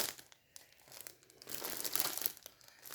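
Paper wrapping crinkled by hand, soft intermittent rustles that swell into a brief louder crackle, close and quiet, with no one speaking.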